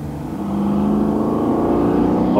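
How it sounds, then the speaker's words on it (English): A heavily modified 1965 Ford Mustang fastback engine rumbling close by, the low roar swelling as the revs climb and then holding loud and steady, with no voices. "meet Igor's supercar-inspired Mustang with Bite, a 65 fastback named Venom"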